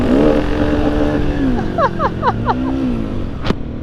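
A Husqvarna Svartpilen 701 motorcycle engine drones steadily, then climbs in pitch as it is revved toward redline, loud and close with wind rush, ending in a sharp brief noise.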